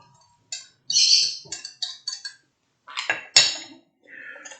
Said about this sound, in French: Et on mélange correctement.